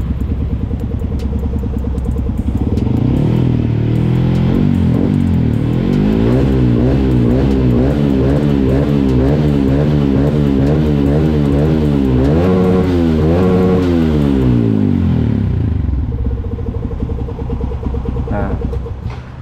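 A motorcycle with a new aftermarket exhaust idles loudly up close, then revs up and down repeatedly through a throaty exhaust before settling back to a rumbling idle.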